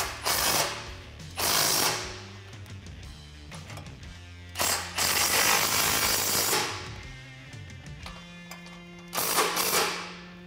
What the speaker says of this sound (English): I'm going to start with the flange bolts using that same 14mm swivel socket that we used to take these out.